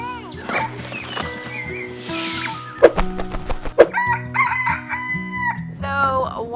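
A rooster on a homestead crows loudly several times amid clucking hens and other fowl, with layered calls overlapping at close range.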